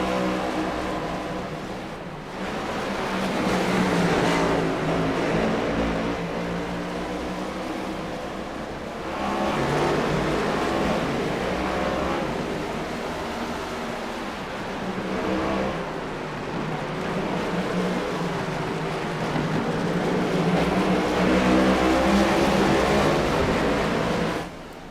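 Stock cars race in the iRacing video game at Mid-Ohio, with engines roaring and revving continuously in waves as the cars pass and shift, loud and steady throughout with no talking.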